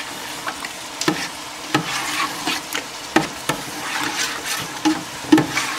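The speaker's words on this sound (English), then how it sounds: "get your spoon. Go ahead, stir that up" A spoon stirring a thick, dark red lasagna meat sauce in a pot, with repeated sharp scrapes and knocks over a low steady simmering hiss.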